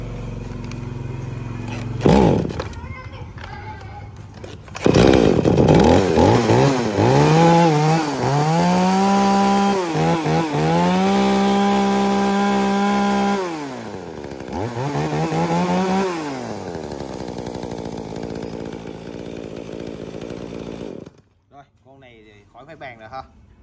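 A CS33 chainsaw starts up and runs loudly, revving up and down through several throttle bursts before cutting off, with brief talk near the end.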